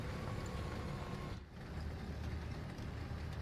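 A tank's diesel engine rumbles in the game War Thunder, a faint, continuous low drone with a brief dip partway through and no talking.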